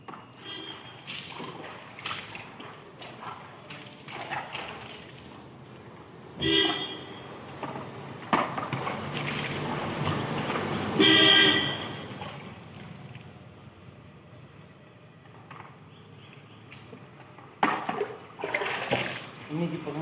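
Water spraying and splashing over an Audi A6 during a wash, uneven bursts of splatter and rushing water with louder surges, while people talk nearby.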